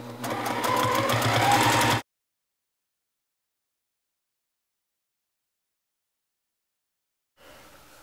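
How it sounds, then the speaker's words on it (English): A sewing machine hums steadily for about two seconds of free motion quilting, then silence, with a faint return of the motor at the end, close and moderately loud. "if you move your hands too fast but your machine is going too slow, you're going to get really long stitches"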